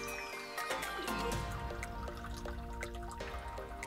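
Strong coffee brews on a hiking trip, liquid dripping and trickling into a pot with clear repeated drips and small bubbling sounds, quiet and close.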